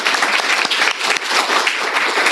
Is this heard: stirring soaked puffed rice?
no